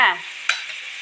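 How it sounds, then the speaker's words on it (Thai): Pounded garlic and chili dropped into hot oil in a pan give a brief burst of sizzling and stirring, loud at the start and then settling into a softer, steady fry. "เอากระเทียมกับพริกที่ตำไว้แล้วใส่ลงไปเนาะค่ะ ผัดให้ซุกหอมๆจักน้อยเนาะค่ะ"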